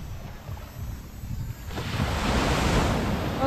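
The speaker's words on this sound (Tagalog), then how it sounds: "Guys, ang laki ng alon, oh." Big waves surge at sea under strong wind: a rough, hissing wash that grows louder and fuller after the first couple of seconds, then holds as a steady roar of surf and gusts, with no voices.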